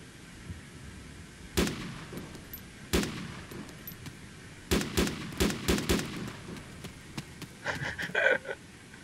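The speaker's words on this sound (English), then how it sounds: "they're shooting up at the hill" Gunshots in the Arma 2 Wasteland video game, sharp distant cracks, a few single shots and then a quick volley, over quiet background noise.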